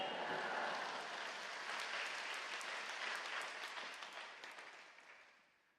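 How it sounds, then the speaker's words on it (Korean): A church congregation at a Korean Full Gospel early-morning service applauds as the pastor comes forward, a steady broad wash of many hands clapping that fades out toward the end. "박수로 맞이하시겠습니다"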